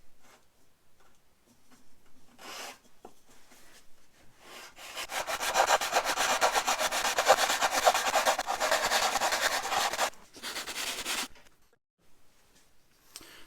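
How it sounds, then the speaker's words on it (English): A wooden block is sanded on its end grain on a workbench: a long, steady run of loud, rough rubbing strokes, then a shorter second burst after a brief pause, with quieter scraping before and after. "I'm going to go ahead and sand this on the end till it's square"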